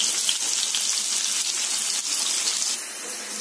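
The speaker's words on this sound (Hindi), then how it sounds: "थोड़ा सा ऑनियन को पकाएंगे ताकि थोड़ा सा वो ट्रांसपेरेंट हो जाए।" Two to three long-sliced onions cook in a pan on a low flame, giving a steady, even hiss and sizzle close by. It plays alone with no talk and eases slightly toward the end.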